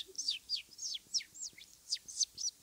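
A person imitates a bird call, whistling a series of bright, rapid chirps and tweets in regular bursts, close and clear with no talk.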